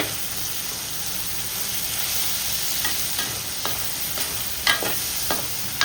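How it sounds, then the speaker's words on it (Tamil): A lemon-sized lump of tamarind sautés in hot oil in a pan, giving a steady close sizzle broken by a few sharp utensil scrapes and taps. "ஒரு பெரிய எலுமிச்சம்பழம் சைஸு புளி போட்டுக்கிறேன். எண்ணெயில் அதே வதக்கி வச்சுக்கிறேன்."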